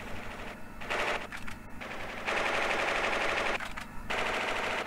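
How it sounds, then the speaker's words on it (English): Gunfire in the video game Final Fantasy VIII, set in an underground prison, comes as rapid machine-gun bursts, with several rattling volleys broken by short gaps over a steady background hum. "As we now hear gunfire, it turns out Zell got himself into a conflict!"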